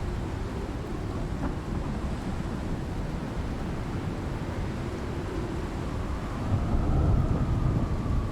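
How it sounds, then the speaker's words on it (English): A thunderstorm rumbles through the survival game Icarus, with steady wind and rain noise, low continuous rumbling and a heavier surge of thunder near the end, no voices heard. "Apologize if it's hard to hear me with the storm blowing right now"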